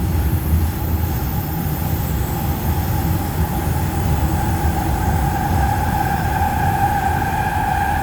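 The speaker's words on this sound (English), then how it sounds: "this is a northbound train to Vong" Northbound train in a video game, a loud continuous rumble of rolling wheels with a rising tonal whine and squeal layered on top, steady for the whole stretch with no voices.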